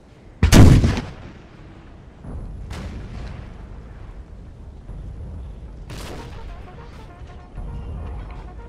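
Artillery fire in the Napoleon Total War game during a siege of Madrid: one loud, close cannon boom, then further heavy reports at intervals, rumbling over a low battle din.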